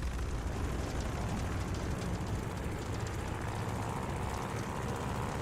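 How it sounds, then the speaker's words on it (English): Propeller aircraft engine in Call of Duty: Vanguard running up to power, a loud, steady broadband roar holding without letup from start to end. "do an engine run-up. Make sure she doesn't blow out."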